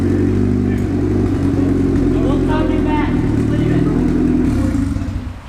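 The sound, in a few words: turbocharged Honda Integra engine running on a dyno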